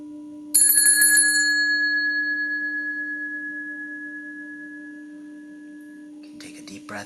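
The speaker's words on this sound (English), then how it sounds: "I'll start with the bell." A meditation bell is struck once to open a Medicine Buddha mantra session, a clear tone that rings and slowly decays over about six seconds above a steady low hum, followed by a faint rustle.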